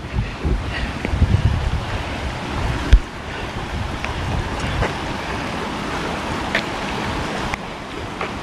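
Steady broadband rush of flowing creek water with wind buffeting the microphone, a soft continuous wash with a bump near the start, on a trail in Millers Park.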